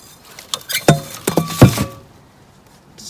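Metal fire extinguishers in a pile clink and knock as someone rummages through them, giving a short cluster of sharp, close metallic taps and clanks that die away into quiet.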